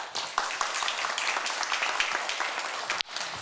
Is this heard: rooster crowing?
no